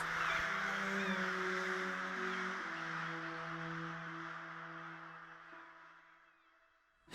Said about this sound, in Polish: Było to wielkie stado ptaków.